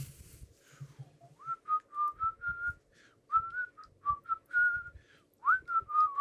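A player whistles a quick run of short, bright notes in a voiced imitation of a creature called Napnar making noise as he works. The whistling is close and clear over a faint low rumble, with no speech.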